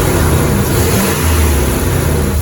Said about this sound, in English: let's go ahead and give it a little bit of snap throttle.